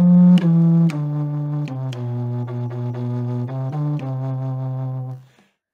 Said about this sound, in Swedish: subkontrabasblockflöjt och det är den största blockflöjten man kan spela här i Kulturskolan.